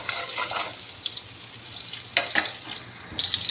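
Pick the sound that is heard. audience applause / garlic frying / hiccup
garlic frying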